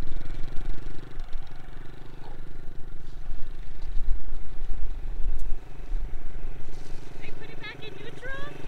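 Mini cafe racer motorcycle puttering in low gear, its small engine chugging and clattering steadily while people talk over it.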